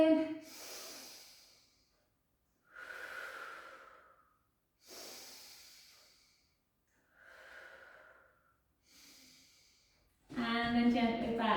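Slow, deep breaths in and out during a gentle pilates flow, five long airy inhale-exhale cycles separated by pauses, close and soft, followed by a burst of music at the end.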